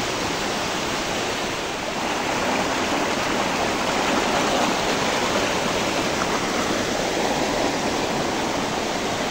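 Water pours steadily over a small waterfall running low where a river begins, a continuous close rushing hiss with no breaks and no voices.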